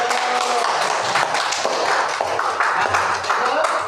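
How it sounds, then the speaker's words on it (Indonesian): A crowd at a university teacher-training session claps briefly in a dense, steady patter of applause that fills the short moment. "kasih tepuk tangan dulu"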